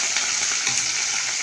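Onions and garlic with fenugreek and curry leaves sauté in a pan for a yam tamarind curry, a steady close hiss of frying oil with no pauses.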